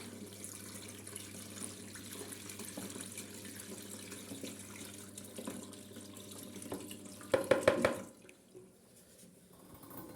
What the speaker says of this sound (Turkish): Suyumuzu ekleyelim.